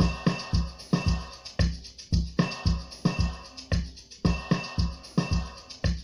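Beatbox-style drum samples played in Caustic 3, a looping pattern of punchy kicks, shakers, a wood block and a snare in a steady repeating rhythm, clear and close with no talk.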